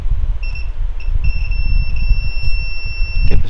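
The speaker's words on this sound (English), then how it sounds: "capacitor is beeping on this area" A Lenovo Y560 laptop motherboard emits a high, thin electronic beep, a few short broken tones then one long steady tone, clear and close over low background hum and handling noise.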